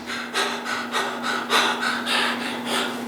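A person imitates rapid, short, panting breathing, about nine quick breaths in a regular rhythm, close and clear with a faint steady hum underneath.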